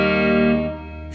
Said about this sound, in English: right now I'm playing it on no effects at all, no distortion like that.